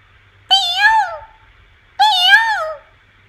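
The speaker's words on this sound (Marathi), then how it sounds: "हा मोर आहे." A peacock calls twice, loud and near, each call a drawn-out, wailing, meow-like cry separated by a short silence.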